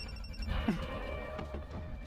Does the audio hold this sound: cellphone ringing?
yes